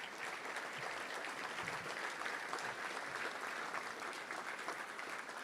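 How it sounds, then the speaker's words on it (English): A banquet crowd at a Little Rock Touchdown Club luncheon applauds the club's founders and board, with steady, dense clapping throughout that sounds somewhat distant and moderately quiet. "Let's give them a round of applause."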